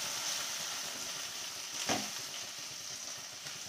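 Pointed gourds fry in a pan with a steady, close hiss of sizzling oil and a brief louder crackle near the middle, with no one speaking.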